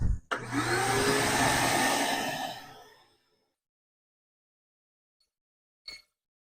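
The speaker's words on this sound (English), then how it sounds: "I always make sure to vacuum in the drawer cavities as well." A vacuum cleaner roars close by for a few seconds while cleaning the drawer cavities of an oak buffet, then winds down to silence, followed by a brief faint clatter.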